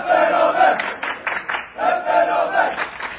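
Cendere 02 football supporters chant for Adıyamanspor, a crowd of voices shouting rhythmic, drawn-out cheers in two surging phrases, loud and close.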